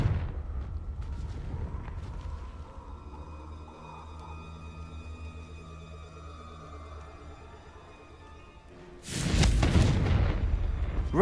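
Low game rumbles give way to a sudden loud, booming Confringo spell explosion in a Hogwarts video game, which lingers as a thick roar through the final seconds.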